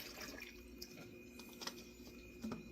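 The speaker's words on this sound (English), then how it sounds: "I'm just pouring the bottles of water in here" Bottled water is poured into a container as part of an emergency preparedness test, giving a steady, faint splashing and trickling with a few drips, continuous and close without talk.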